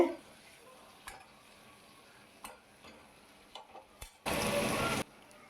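Spices cooking down with a splash of water in a pan: faint, sparse stirring clicks and scrapes, then a sudden loud hissing sizzle that lasts under a second before dropping back to quiet.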